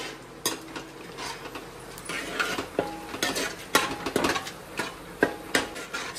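Whole spices stirred in hot oil in a pot, a metal spoon clinking and scraping against the vessel in irregular knocks over a soft, steady sizzle.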